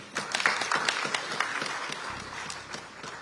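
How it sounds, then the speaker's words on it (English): Audience at an environmental week event applauds after a presentation, a soft, dense patter of many hands clapping, fairly faint and distant, tapering slightly toward the end. "Another round of applause."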